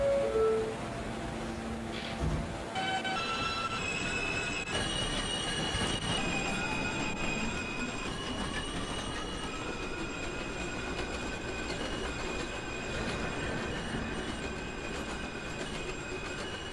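A New York subway Q express train bound for 96th Street and Second Avenue pulls away, wheels squealing and rails rumbling steadily, with a rising motor whine, close and continuous throughout.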